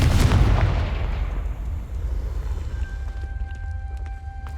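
A Confringo fire spell explodes in Hogwarts Legacy with a loud, close booming blast that rolls into a rumbling decay, followed by a thin sustained tone as the noise settles.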